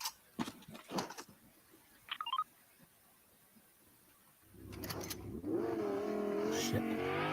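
A car engine in the Fortnite video game starts up and revs steadily in the second half, its pitch rising and wavering, after a few clicks and thumps over quiet background.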